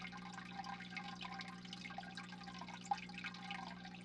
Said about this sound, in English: This aquarium is not silent, but it is peaceful. Water flows softly. Bubbles rise slowly.